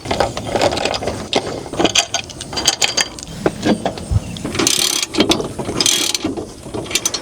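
Ratchet wrench clicking as an ATV wheel fitted with Elka Stage 3 suspension is reinstalled and its lug nuts tightened, giving bursts of close, rapid metallic clicks with brief gaps and a few louder clanks.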